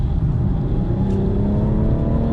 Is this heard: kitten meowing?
no